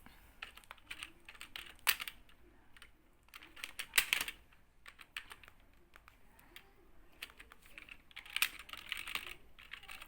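Typing on a computer keyboard while writing text in Microsoft Word: bursts of quick key clicks with brief pauses between them, close and fairly quiet, with no talking.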